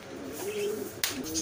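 A pair of black Nun pigeons gives a single soft, close coo with a sharp tap or click partway through.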